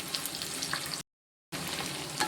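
Dried red chillies and coconut sauté in a pan for a sundakkai chutney with a dense, close sizzle, which cuts out to total silence for about half a second before resuming.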